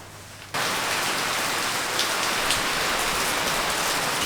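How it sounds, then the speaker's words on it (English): Heavy rain pours down outside during a day-long Vietnam downpour, a dense steady hiss that swells in abruptly after a brief quieter moment and then holds loud and unbroken. "it is absolutely pouring outside"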